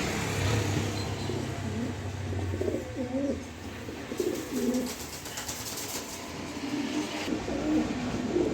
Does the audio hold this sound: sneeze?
no